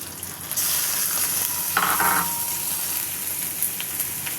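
Garlic and cumin paste dropped into a pan of frying paste while cooking taro stolons: the sizzle jumps sharply as it lands, then settles into a steady, close frying hiss with a brief stirring scrape.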